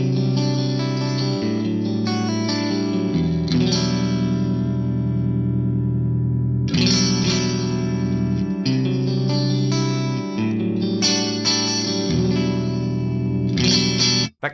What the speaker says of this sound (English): I'm going to go with that 2290 chorus again, but we will go for a much lower mix on there.